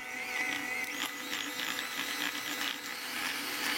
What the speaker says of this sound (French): je vais continuer à fouetter pour bien crémer ce mélange